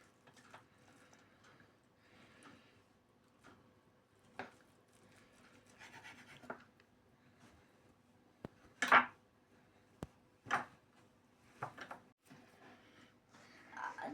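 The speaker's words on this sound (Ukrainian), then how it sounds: "А тепер ми ріжемо свинину на маленькі кусочки." Quiet scraping and tapping of a knife on a cutting board while cutting pork into small pieces, with intermittent sharper clicks and knocks spaced irregularly.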